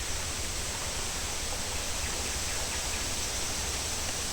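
Water flowing along a forest creek, a steady broadband rush that holds even and unbroken throughout, with no voices.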